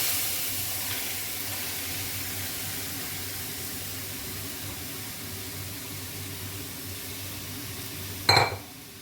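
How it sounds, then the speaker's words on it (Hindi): After a long stretch of quiet kitchen hum, chana dal lentils rattle briefly into a pot near the end, a short, close, grainy clatter. "तो सबसे पहले मैं यहाँ पे दाल ऐड करूँगी।"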